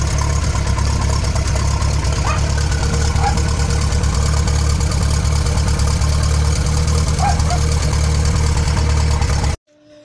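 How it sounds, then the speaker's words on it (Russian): A car engine idles loudly and steadily through an old, rusted exhaust muffler full of holes, giving a constant low rumble with slight knocking that cuts off abruptly near the end. "Старый глушитель."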